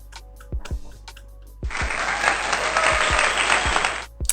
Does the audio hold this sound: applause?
yes